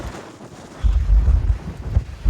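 Strong wind buffets the microphone on the deck of a ferry sailing from Tsawwassen to Swartz Bay near Victoria, a loud low rumble that starts softer and then roars steadily and close.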